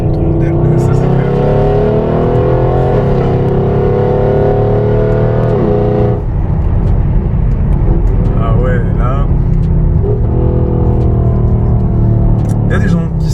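Loud, close engine roar from a Mercedes-AMG GLE 63 S with 585 horsepower while driving, a steady deep growl with rising and falling revs and a drop in pitch midway, with people talking over it.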